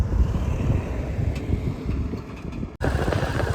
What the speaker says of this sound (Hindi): हर माउंटेन पास की तरह यहाँ पर भी ठंडी हवा चल रही है।